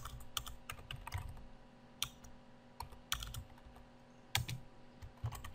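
Quick, irregular key clicks come from a computer keyboard as code for a WordPress theme admin panel is typed, close and fairly quiet over a faint background hum, with no talking.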